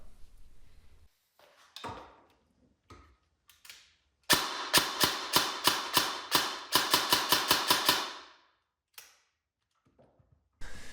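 Airsoft gun fitted with a Perun AB++ MOSFET and pre-cocking, fired semi-automatically: a few isolated shots, then a rapid regular string of about fifteen sharp snapping shots, close and loud, with no talking.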